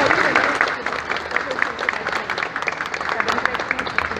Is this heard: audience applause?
yes